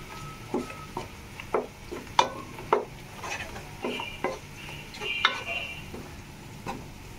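Vegetables stirred in a pan make a string of soft scrapes and light utensil knocks at an unhurried pace over a faint background sizzle, close and fairly quiet, with no talk.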